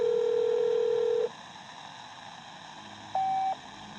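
A telephone voicemail tone in Modern Warfare III: a steady tone lasting over a second, a pause of low hiss, then a shorter higher beep.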